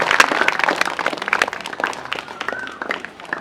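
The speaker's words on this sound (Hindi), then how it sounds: "सब जोर से ताली बजाएंगे यीशु मसीह के लिए" A church congregation claps loudly and quickly for Jesus Christ during a sermon, a crowded burst of clapping that thins out toward the end, with faint voices underneath.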